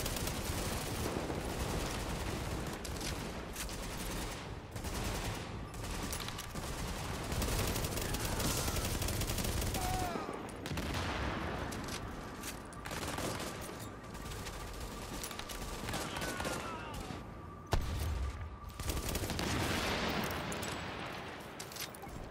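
Sustained bursts of assault rifle fire in Tom Clancy's The Division, dense and continuous across a busy game soundscape, with volleys rising and falling and a sharper crack near the end.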